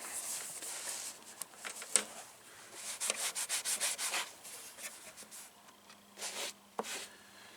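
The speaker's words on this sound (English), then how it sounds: "let me wipe this down a little bit that spilled everywhere or blew out of it" Rag wiping and rubbing across the surface of a Toro Recycler push mower to clear spilled oil, a series of close, soft scrubbing strokes in short bursts with brief pauses.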